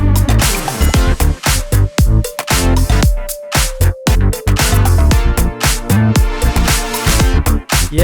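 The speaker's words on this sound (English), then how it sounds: "I used a hardware synthesizer called DeepMind. And then right here, I'm doing a little run." Dense retro pop production, with a DeepMind hardware synthesizer playing a quick melodic run over full drums and bass, loud and continuous with no voices.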